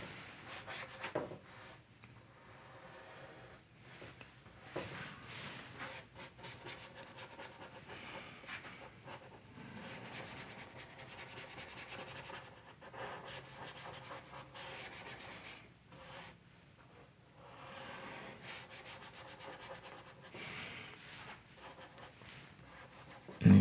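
A filbert brush scrubs oil paint onto canvas in quick back-and-forth strokes, a soft, close, continuous rubbing with brief pauses and no talking.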